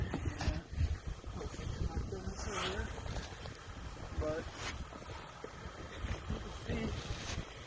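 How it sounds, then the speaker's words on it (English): Wind gusts during a snowstorm rush and buffet the microphone outdoors in a steady, rough roar, with a person speaking briefly over it. "The wind's picking up now."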